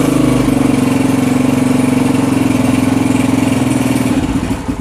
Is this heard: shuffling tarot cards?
no